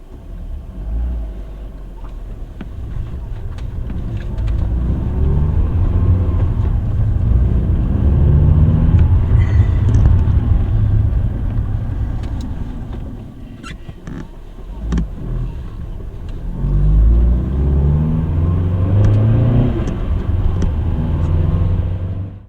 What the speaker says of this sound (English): I'm going to take it out for a little test drive and see what it's like.